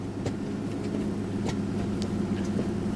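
An Aston Martin DB9 drives along with a steady, moderately quiet engine hum and light tonal drone, a few faint clicks and knocks scattered over it, with no one talking.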